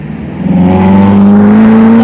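A Maserati sports car, a rentable model offered for short drives, passes near Trafalgar Square in London, its engine rising into a loud, steady rev that swells and holds close by.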